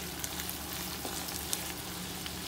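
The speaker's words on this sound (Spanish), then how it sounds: "Ya solamente vamos a esperar a que nuestro maíz se cueza." Corn kernels fry in a pan with butter and a pinch of salt, giving a steady, close sizzle with small crackles and pops and no talking.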